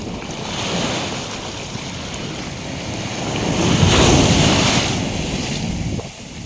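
Ocean waves wash onto a Thai beach in a continuous broad roar that swells to a louder surge midway and then recedes, mixed with wind buffeting the microphone, no voices.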